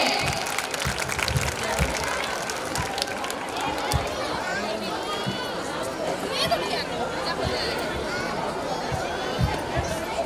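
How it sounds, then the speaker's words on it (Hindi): Applause with cheering and crowd chatter fills a school annual function after a dance performance, a dense wash of clapping and voices running steadily throughout. "एक बार जोरदार तालियां हो जाए इस जबरदस्त परफॉर्मेंस के लिए"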